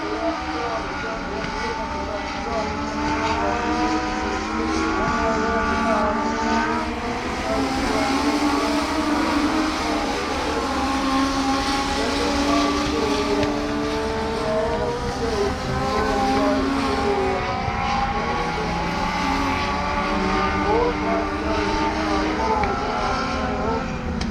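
Compact speed cars racing a heat at Bega Speedway, engines droning loud and continuous with shifting revving pitches as cars pass, under a commentator's talk.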